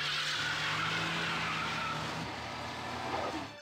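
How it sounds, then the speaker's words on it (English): A car in a night downhill racing video game drifts through a corner with a long, loud tire screech and skid over a revving engine, tapering off as it passes. "a car suddenly flies out of the corner up ahead. It straddles the center line as it drifts through the corner"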